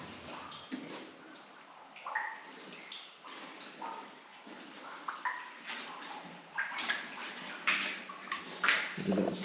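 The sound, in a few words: feet wading through water inside a mountain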